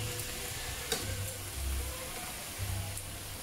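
Pork steak frying in oil in a pan, a soft steady sizzle with faint low rumbling and an occasional small click, fairly quiet and unbroken by talk.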